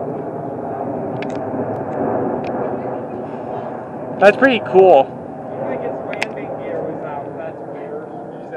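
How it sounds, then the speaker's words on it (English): Low-flying Air Force jet passes overhead as a steady, broad roar that fills the whole stretch, with people talking briefly over it. "That's a pretty low-flying plane."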